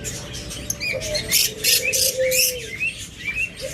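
A pair of pet birds, lovebirds or budgerigars kept for sale, chirp and squawk in short repeated bursts close by, over a steady background hum.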